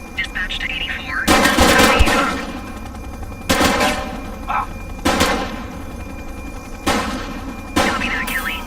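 A shootout in the police game The Precinct: five bursts of gunfire at roughly even intervals, each a sharp crackling volley, over steady background noise with voices calling out between them.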